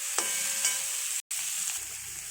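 Tomatoes and sugar are stir-fried in a pan, producing a bright continuous sizzle with a few utensil clinks and scrapes, briefly interrupted by a short gap of silence.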